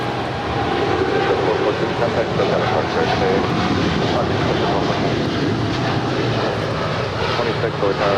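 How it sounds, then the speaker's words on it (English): A United Airlines Boeing 787-10 Dreamliner departs for Newark at LAX, its engine roar loud and continuous, with talk heard over the sound. "This is United Airlines Flight 2614 departing to Newark Liberty. It's a 787-10 Dreamliner."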